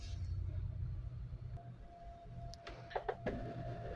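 A Cricut cutting machine loads a sticker sheet for print and cut, giving a low motor hum with faint whirring and a few soft clicks and taps near the end, heard close and quiet.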